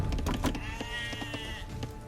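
Sheep bleating in the Age of Empires video game, a few short wavering bleats close up over steady game sounds and music, with no talk.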